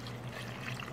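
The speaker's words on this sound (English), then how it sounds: "Next, we will put 2 cups of 8 ounce water." Water poured into a cooking pot while making a Bengali shutki (dried fish) curry makes a soft, faint trickling pour for about a second, with no talk.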